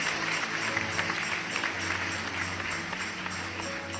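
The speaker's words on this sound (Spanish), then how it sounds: "Un aplauso por ella. Fuerte." A church congregation breaks into steady, dense applause that fills the room, sustained and even throughout with no gaps.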